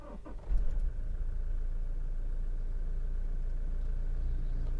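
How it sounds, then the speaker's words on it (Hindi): A Toyota Fortuner's engine cranks and catches with a short burst near the start, then settles into a steady, close diesel-like idle rumble with no talk. "हम Fortuner को अगर स्टार्ट करते हैं"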